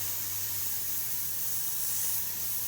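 Steady, continuous airbrush hiss as reduced white Trident airbrush paint sprays through a 0.35 Iwata HPC SE onto canvas, close and even with no talking.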